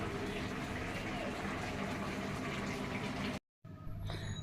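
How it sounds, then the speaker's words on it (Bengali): Fish and dried chillies sizzle in hot oil in a home kitchen pan, a steady close crackling hiss that cuts out for a moment near the end, then resumes more faintly. "তো মাছ ভাজলাম, এখন আর কি তুলে নিচ্ছি। আর সঙ্গে তো আজকে শখ করে মরিচও ভাজছি।"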